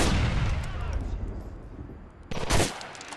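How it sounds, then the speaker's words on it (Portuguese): Sniper rifle gunfire in the video game GTA: The Ballad of Gay Tony, with a noisy burst of shooting at the start and a second loud sharp blast near the end. "Dando dois tiros só pra ter certeza."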